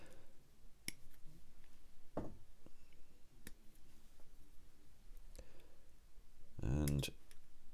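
Sharp clippers snip a part from a plastic model kit sprue, a 1/48 scale Hasegawa Voyager space probe, giving a few isolated crisp clicks and one louder close snap near the end, over quiet room background.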